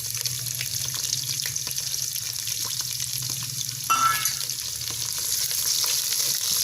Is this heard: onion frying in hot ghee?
yes